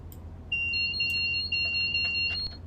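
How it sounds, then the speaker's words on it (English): Cab alarms in a Class 185 train in the Train Simulator 2022 game: two steady, high electronic tones sound together, holding continuously for about two seconds before cutting off, with no talking. "Oh my god, all the alarms."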